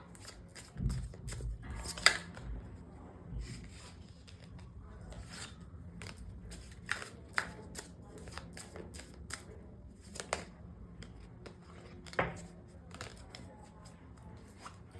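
Tarot cards are shuffled and pulled from the deck: quiet riffling and slapping bursts, irregular sharp flicks and taps, with a low thump early on and a soft voice speaking briefly.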